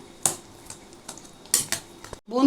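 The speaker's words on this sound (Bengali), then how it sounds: "আচ্ছা এটাকে ভালো করে আমি আগে চটকে নেবো" Roasted eggplant being mashed for bharta with a utensil in a bowl, giving a few sharp clinks and scrapes at intervals amid soft squelching, close and moderately loud.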